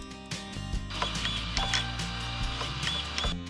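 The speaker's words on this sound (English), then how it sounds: "So the servo seemed to work okay," RC car steering servo from an Arrma 3S truck with a Mega servo upgrade sweeping after power-on, short whirring mechanical buzzes in quick bursts, close and alone.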